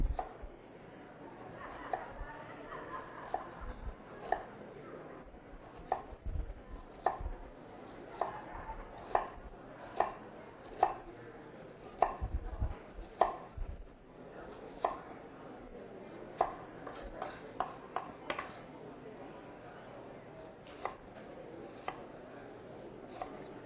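Knife chopping food on a cutting board, cutting vertical slices down during an Indian breakfast scramble demo at an expo: a long run of crisp, close, irregularly spaced taps against the board, alone without talk.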